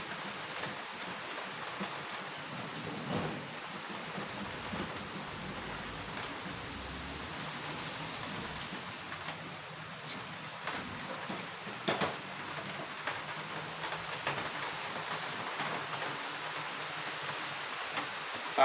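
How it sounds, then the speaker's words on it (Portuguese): Rain falling outdoors on a cloudy day in late June, a steady hiss of drops that stays even and moderate throughout, with no voices. "escuta o som da chuva"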